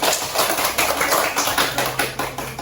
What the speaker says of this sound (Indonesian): Ayo kasih tepuk tangan untuk kelompok Sandor.